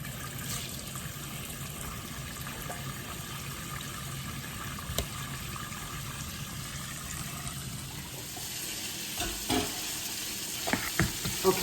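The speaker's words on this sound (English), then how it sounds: "I put butter in the pan." Butter sizzles steadily in a frying pan before shrimp and lobster meat go in, a constant close hiss with a few sharp clicks and clatters toward the end, no voices.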